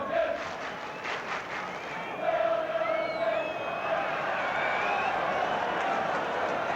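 Nottingham Forest supporters at a football match against Liverpool, a broad stadium crowd roar with sustained chanting, heard distantly under a commentator's voice.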